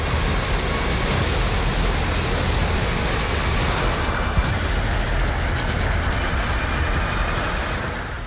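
Rispana river in Dehradun in full monsoon flood, a loud, dense, unbroken roar of rushing water like a waterfall, steady throughout with no voices.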